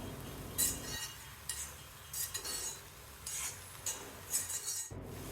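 A spoon stirring mango buttermilk curry with coconut in a pot over a low flame, giving faint, intermittent clinks and scrapes against the metal, quiet and close, with no talking.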